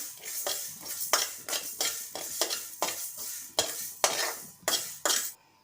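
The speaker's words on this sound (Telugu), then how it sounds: "ఇప్పుడు మెంతులు వేయించుతున్నాను. ఇదిగో గ్యాస్ వెలిగించాను." Two spoons of fenugreek seeds roast in a dry pan on a gas stove, heard as a steady run of rhythmic spoon scrapes and rattling seeds about every half second, close and fairly quiet with no talking.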